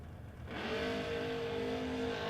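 A Honda drag race car at a drag strip shootout roars off the line, its engine revving up into a loud, sustained high-pitched whine as it tears down the track nearby.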